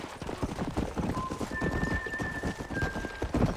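Wild horses in the Red Dead Redemption video game gallop with a dense, rapid clip-clop of hooves, while neighing and whinnying cut through near and loud and tonal game music runs underneath; no talking.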